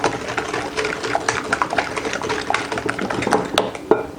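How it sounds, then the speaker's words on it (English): Eggs and vanilla extract being whisked for beignet batter in a home kitchen, giving a steady run of quick clattering whisk strokes against a bowl, close and fairly loud, with no talking. "give that a nice whisk"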